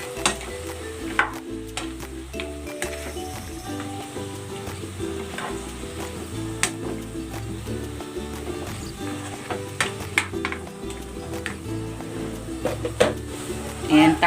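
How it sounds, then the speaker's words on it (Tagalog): Sliced raw papaya, about a kilo, goes into a pan and cooks with soft continuous sizzling and intermittent stirring clicks and scrapes, while a person talks over it. "And then, ilalagay ko na itong papaya."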